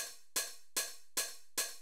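Four crisp open hi-hat hits from an Arturia drum sample, before distortion, in an even rhythm, each a bright sizzling burst that rings and decays before the next.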